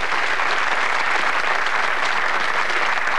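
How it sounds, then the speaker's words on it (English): Studio audience applause on a 1986 Blockbusters game show, a dense, steady wash of clapping that fills the whole stretch at even loudness with no talk over it. "Give him another round of applause."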